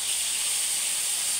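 Carabao beef tapa fries in a pan, giving a loud, unbroken hiss of sizzling fat that holds steady and close throughout.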